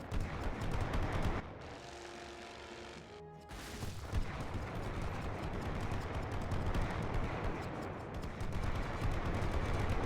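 Rifle gunfire in a World War 1 strategy video game: dense, continuous crackling volleys of shots, with a brief lull of tonal sound in the middle.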